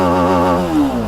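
Engine of a TVS Apache RR310 motorcycle revving, loud and close, with a steady harmonic tone that wavers and then drops in pitch.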